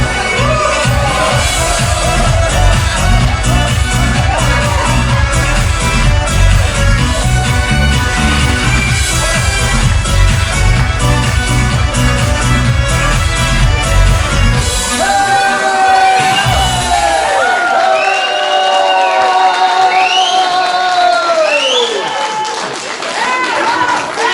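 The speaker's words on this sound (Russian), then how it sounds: "А, ты на аплодисменты вышел." A concert audience applauds and cheers, with clapping, shouts and whoops blending over the end of loud music, and the music then drops away while the crowd noise carries on.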